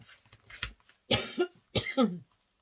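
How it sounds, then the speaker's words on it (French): Three harsh coughs in quick succession, the second and third heavier and longer, with short quiet pauses between them. "Désolée pour la toux"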